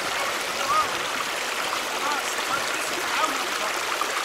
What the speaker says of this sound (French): Donc il y a de l'eau.